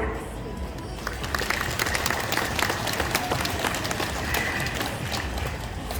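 A crowd applauds at an outdoor Our Republican Party press conference in Dongseongno, Daegu, with steady, dense clapping throughout and voices mixed in.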